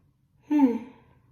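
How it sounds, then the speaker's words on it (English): A single short, breathy voiced yawn rising out of near silence, lasting about half a second before fading away. "I'm yawning as I say the word wakefulness"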